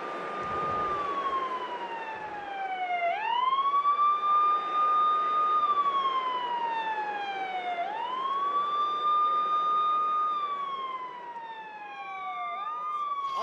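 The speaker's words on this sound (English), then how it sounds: "Obviously an ambulance." An ambulance siren from the WWE 2K20 wrestling video game wails steadily in repeated slow rising and falling sweeps, clear and prominent over a quiet background for the whole stretch.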